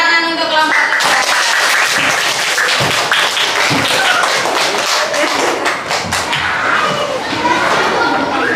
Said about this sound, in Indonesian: Tepuk tangan untuk kelompok cerdas.